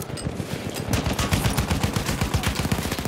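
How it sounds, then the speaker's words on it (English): Battlefield 1 machine gun fire rattles in a rapid, sustained burst of closely spaced loud shots that starts after a short quieter lead-in and continues to the end. "Enemy machine guns."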